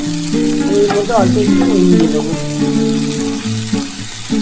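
Onions fry in hot oil with a soft, steady sizzle running beneath a person talking close by for most of the stretch.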